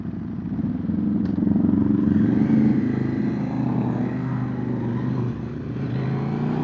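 A 500R motorcycle idling nearby with a steady low rumble, the engine note swelling slightly in the middle and settling again, with faint clatter and no talking.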